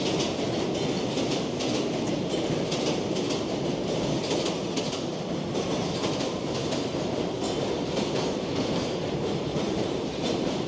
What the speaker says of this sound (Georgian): მატარებელი მოვიდა